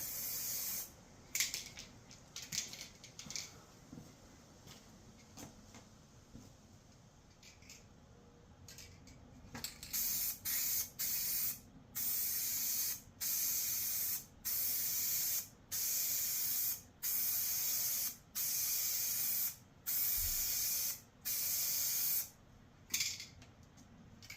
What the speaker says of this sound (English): Kind of gotta spray it at an angle to get all into the fins.